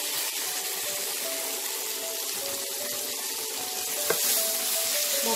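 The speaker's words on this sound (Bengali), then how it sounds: "এবার এটাকে খুব ভালো করে মিশিয়ে মশলার সাথে কষাবো।" Spices and tomato, with a pinch of sugar, sautéing in a pan for green peas curry, a constant close sizzle and hiss with faint scraping, steady throughout and no voices.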